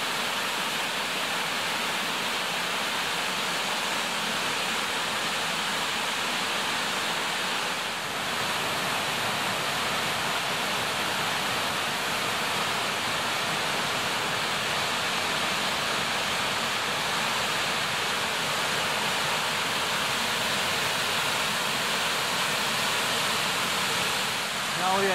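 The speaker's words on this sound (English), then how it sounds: "Very impressive waterfall." A large waterfall in Northern California thundering steadily, a broad, unbroken rushing roar heard close and constant for the full length, with no talking over it.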